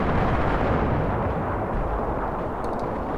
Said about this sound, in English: we can pretty much cancel this mortar strike